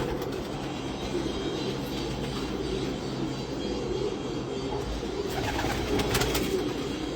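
Soft, low cooing of pigeons murmurs continuously against a rumbling background, with some rattling and clatter near the end.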